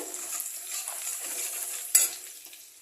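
A spoon stirs bay leaves and spices in a hot oiled pan, with a soft steady sizzle and light scraping close by, plus one sharper metal clink near the end.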